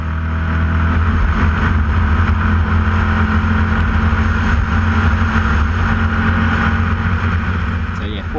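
A Formula Vee race car's engine is held at full throttle on track, a loud continuous droning roar that stays steady up close and drops slightly at the very end.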